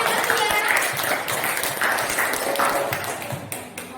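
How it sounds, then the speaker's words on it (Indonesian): A classroom of sociology students applauds a classmate, a brief burst of clapping that runs under a teacher's voice and then fades as she carries on speaking. "beri tepuk tangan kepada Mulyadi"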